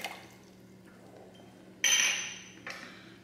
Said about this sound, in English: I'm first going to add the olive oil, the red wine vinegar